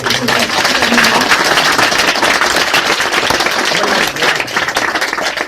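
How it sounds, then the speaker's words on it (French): Dense, steady applause from an audience fills the whole stretch, many hands clapping continuously and fairly close. "ça mérite des applaudissements absolument exceptionnels"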